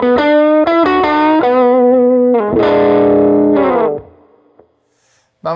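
Electric guitar played through a TC Electronic MojoMojo overdrive pedal, a run of distorted single notes and chords ringing loud and close before cutting off into near silence.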